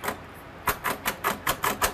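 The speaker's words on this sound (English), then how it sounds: "special tools like his typewriter that he uses to complete all of his school assignments in Braille." A braille typewriter clacks in a quick, uneven run of sharp, close key strikes after a brief quiet start, with no talking.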